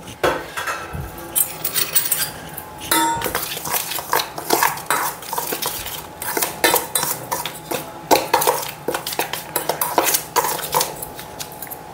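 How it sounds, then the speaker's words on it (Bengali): Gram flour and semolina batter with turmeric, chilli and cumin powder being mixed in a bowl, giving a steady run of close scraping and clinking utensil strokes against the bowl, with no talking. "এবার বেসন নিয়েছি আর এই একটু সুজি দিয়েছি"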